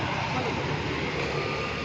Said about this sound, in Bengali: হেলিকপ্টার চলে গেল